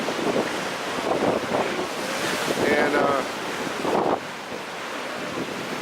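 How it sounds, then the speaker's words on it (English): Lake Superior storm surf with strong winds of 31 to 35 mph: a steady, loud roar of breaking waves and gusting wind buffeting the microphone, surging in sets, with a brief spoken word. "the waves come in sets."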